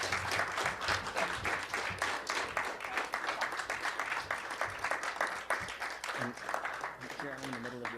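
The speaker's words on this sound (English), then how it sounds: "Here I am in the middle of their applause." After a Green Party leadership win, a crowd applauds Elizabeth May with loud, continuous clapping, and cheers and voices rise through it toward the end.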